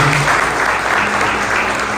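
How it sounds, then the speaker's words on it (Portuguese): Loud, dense applause from a church congregation, a continuous roar of many clapping hands close by, holding steady for the whole brief stretch. "Você pode dar uma salva de palmas bem forte para Deus."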